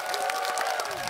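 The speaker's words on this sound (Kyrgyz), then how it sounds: "Кол чабар болсун Бегишке." An audience at a karaoke rap-battle show claps steadily in dense, fast applause mixed with crowd noise, loud and continuous for the whole moment.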